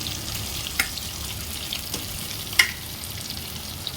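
Yogurt-marinated chicken sizzling in a pan for a light curry: a steady close frying hiss with a few sharp clinks of a utensil against the pan.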